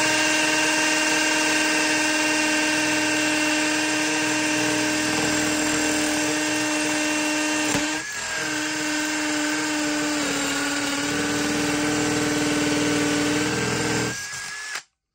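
A 12 volt combi drill in hammer mode grinding into masonry with a masonry impact bit, a loud continuous whine with steady tonal hum, briefly dipping midway, then stopping abruptly near the end.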